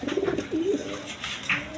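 Pakistani Peshawari Lahori pigeons kept in a cage with eggs give a couple of close, low, rolling coos, followed by a faint higher chirp against quiet background.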